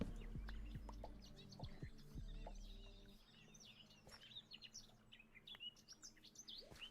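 Ambient birdsong in the video game Minecraft: quiet, scattered chirps and tweets overlapping one another, with a few lower clucking calls early on, fairly faint and continuous throughout.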